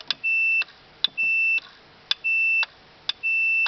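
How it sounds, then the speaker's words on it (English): A multimeter's continuity tester beeps on the tamper terminals of a Honeywell Optima Compact Gen4 alarm panel: four loud, steady electronic tones, each about half a second, in an even rhythm with short gaps and small clicks between them. "with my multimeter, if you press this button,"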